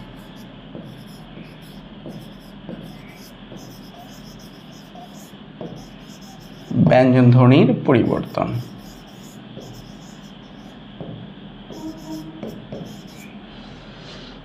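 Someone writes on a board during a Bengali class, making faint, scratchy strokes across a quiet room, with a teacher speaking briefly partway through.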